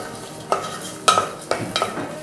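Chopped carrot and green chili being stirred and sautéed in a hot pan, with a few distinct scraping stirs of a spoon against the pan over a soft, steady sizzle.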